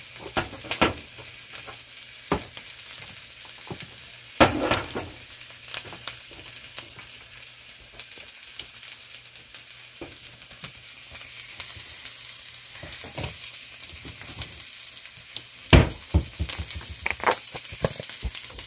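Kale seasoned with pink Himalayan salt, garlic powder and onion powder fries in a pan, a constant close sizzle broken by clacks and scrapes of stirring that cluster near the end.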